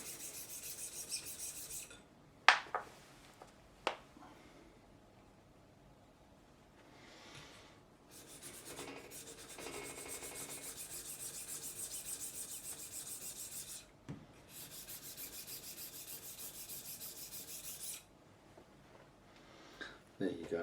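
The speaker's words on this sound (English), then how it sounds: "I'll do it with the file actually." A metal file rasping across the bottom of a guitar nut during a nut swap on a PRS SE Mark Holcomb guitar, heard in several bursts of steady scraping strokes at close range with brief knocks and pauses between them.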